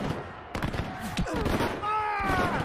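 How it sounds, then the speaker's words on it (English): Musket volleys crackle in a Waterloo battle reenactment as the first shots are exchanged with the British line. The shots are dense and overlapping, with a voice and music running beneath them. "the first shots are exchanged"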